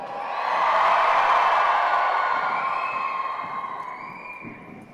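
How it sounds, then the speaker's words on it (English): Loud crowd cheering and whooping at a horse show, swelling quickly then slowly fading over several seconds, with no talk over it. "The louder you cheer, the higher we go."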